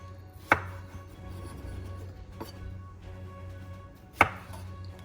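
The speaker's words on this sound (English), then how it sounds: "what we're gonna do is basically slice these in quarters because they're gonna cook in the oven" A knife cuts red potatoes into quarters on a board, three sharp thuds spaced a second or two apart over a quiet hum, with no speech.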